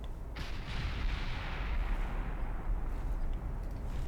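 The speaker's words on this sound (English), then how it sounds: "Quite a lot of ricochets there" Naval gunfire from battle cruisers in Ultimate Admiral Dreadnoughts, a steady low booming rumble of heavy guns with scattered shell ricochets, continuous and fairly loud with no talk.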